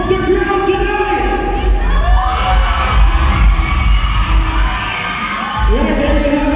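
A pageant audience cheers and shouts for the candidates, a loud, sustained mix of whoops, yells and high children's voices filling the hall, with amplified speech or music faintly under the crowd.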